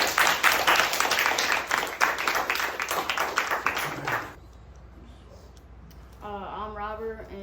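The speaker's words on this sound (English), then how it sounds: "Give him a round of applause." Audience applause at a live how-to demo session, a dense burst of clapping for about four seconds that cuts off abruptly, followed by quiet room tone and then a voice speaking.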